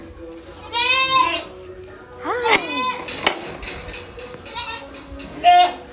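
Goats on a small farm cry out in loud, wavering bleats, several close calls overlapping with short pauses between them, and a person briefly speaks.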